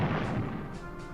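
Battleship gunfire hitting a cruiser in a World War II naval strategy game, a single muffled heavy boom with a crashing rumble that fades quickly, fairly quiet.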